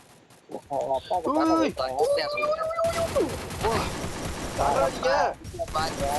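Gunfire bursts rattle in the Free Fire video game, mixed with game sound effects and partly masked by excited voices talking over the action.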